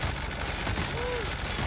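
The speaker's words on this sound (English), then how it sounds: "This is a perfect chance for us to try out our handy dandy Gatling Spectrum. Oh, it's a slow wind up." A Gatling Spectrum gun in The Outer Worlds fires a steady, dense stream of rapid shots, loud and continuous throughout, with no talking.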